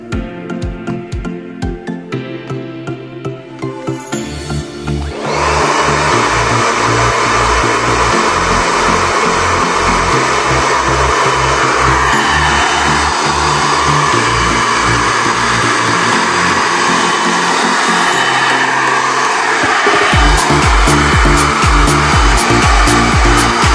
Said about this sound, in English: I found that the hair dryer is about as noisy as other hair dryers.